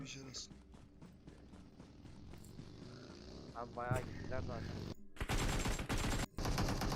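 Bursts of rapid video game gunfire, including machine-gun-like rattles, break out among excited talk and game sounds, growing louder and denser toward the end.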